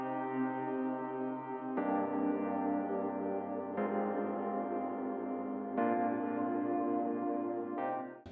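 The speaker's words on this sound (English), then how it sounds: "I added the Stage 73V, and it's playing the exact same chord progression" An Arturia Stage 73V electric piano plays a chord progression of sustained, mellow chords that change about every two seconds, quiet and steady without any voices.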